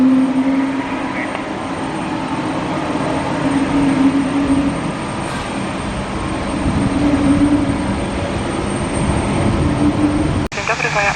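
Airliner landing on runway 11 at Warsaw airport, a loud continuous jet engine roar with a steady tonal whine that lasts throughout and ends in a sharp click.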